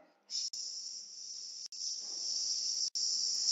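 A grasshopper in flight gives a steady, sharp, high-pitched insect hiss that runs unbroken for several seconds, close and fairly loud, with no voices.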